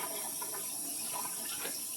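Tap water running steadily into a kitchen sink while a turkey is rinsed under it, a constant close hiss with faint splashy variation and no speech.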